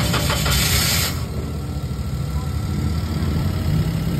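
A car engine, just jumpstarted with a portable jump starter, fires with a loud burst at first and then settles into a steady, low idle rumble close by.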